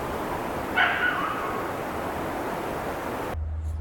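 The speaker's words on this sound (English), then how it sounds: "I took in the beauty while Kelly got her pre-climb barks out." A dog at a climbing spot in Squamish gives a short burst of barks about a second in, moderately close, then goes quiet over a steady outdoor background hiss.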